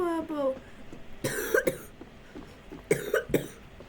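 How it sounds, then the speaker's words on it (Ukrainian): Someone coughs in two short bursts, each with a couple of harsh coughs, while playing a Roblox game. Brief voice sounds come before them, and a quiet room lies underneath. "Так, я кашлю, бо я приходив."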